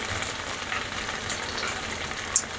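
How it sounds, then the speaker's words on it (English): Carne guisada with onions frying in a pot gives a steady, soft sizzle and crackle throughout, with one brief sharp tap near the end. "I need to stop stirring it."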